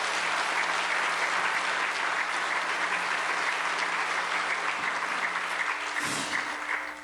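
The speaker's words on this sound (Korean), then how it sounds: "박수로 환영하시겠습니다." Sustained applause from a church congregation at a prayer service for peaceful reunification, welcoming a pastor to preach; steady, dense clapping throughout that thins slightly near the end.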